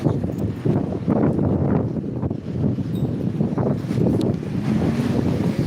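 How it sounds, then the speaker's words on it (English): Steady, heavy wind buffets the microphone with loud low rumbling gusts throughout, and a faint wash like water or surf sits underneath. "windy out there"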